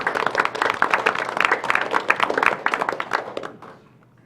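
Meeting-room audience at a city commission session applauds steadily, many hands clapping in a full, lively patter for over three seconds before dying away quickly.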